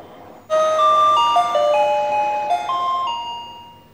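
A voice-activated bell turned on in an ophthalmic surgery setting plays a clear electronic chime melody of several sustained tones stepping up and down, starting abruptly and ringing steadily for a few seconds without talk.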